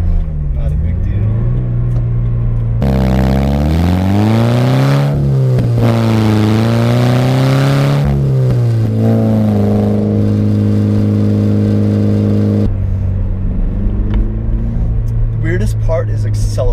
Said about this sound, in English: when I accelerate quickly in this car, when I really get on it, with the Buddy Club Spec 2 without the silencer